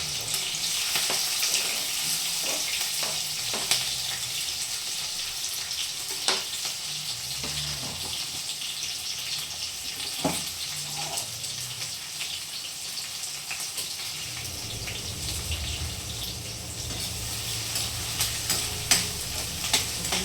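Onions frying and sizzling in a pan with green chillies and garlic for potato bhaji, a steady broadband sizzle with occasional stirring clinks, no talk.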